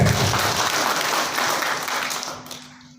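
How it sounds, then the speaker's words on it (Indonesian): An audience applauds at a corporate gathering, a dense wash of clapping that holds steady and then thins toward the end, loud and close. "Tepuk tangan Bapak PTB."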